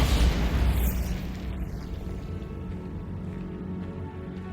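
Bombarda blasting spell explosion in the video game Hogwarts Legacy, a heavy, deep boom at the start that rolls into a long, fading rumble with no talking.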